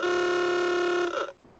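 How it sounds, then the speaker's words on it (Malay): An old car horn from a GarageBand effect sounds as a single sustained, buzzy honk lasting just over a second, then bends down in pitch and cuts off. "Itu horn kereta lama."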